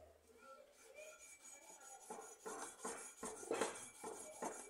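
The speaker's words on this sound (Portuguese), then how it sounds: "Eu vou ver se essa lixa tá melhor." A homemade ionic rod being sanded by hand with sandpaper makes rhythmic raspy strokes, roughly seven or eight back-and-forth rubs in a row that grow more regular, close and fairly quiet, without speech.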